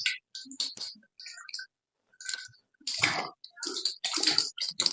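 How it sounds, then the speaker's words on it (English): Water splashes in bursts as hands scoop and wash the face three times during wudu, close and fairly loud, with short quiet gaps between the rinses and no talking. "We will wash our faces 3 times."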